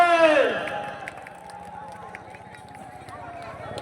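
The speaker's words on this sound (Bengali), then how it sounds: "জোরে হাততালি হয়ে যাক সবাই মিলে" A large crowd at a public gathering breaks into loud, dense applause that carries on steadily, following a brief descending tonal sound at the start.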